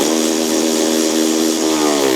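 Kioti UTV diesel engine running steadily at high revs close by, a loud continuous droning rumble with a rich harmonic whine that holds level throughout.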